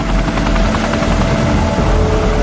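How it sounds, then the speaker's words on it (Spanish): Chinook helicopter rotors thunder loud and steady, a dense continuous beating roar filling the whole stretch with no voices. "Se usan helicópteros Chinook para lanzar el agua desde el aire."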